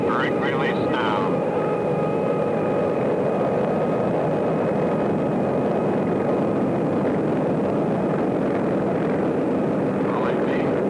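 A North American XB-70 at brake release and the start of its takeoff roll, its engines producing a loud, constant roaring drone with a steady high whine, while radio voices talk over it.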